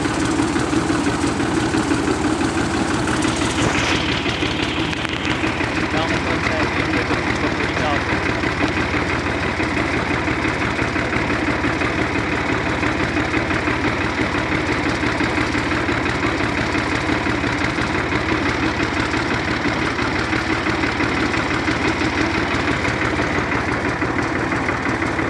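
Tractor engine running steadily while leveling a dirt ramp beside a field watercourse, a continuous loud mid-low drone throughout with a faint voice at times underneath.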